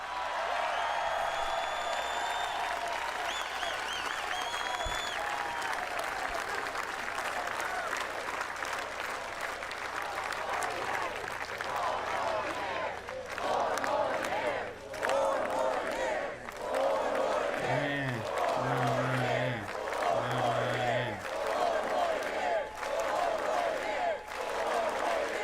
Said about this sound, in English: Look at all the black people cheering.